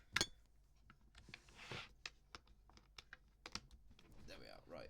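Keys on a computer keyboard are pressed in a quick, irregular run of sharp clicks, close but quiet, with a brief voice near the end.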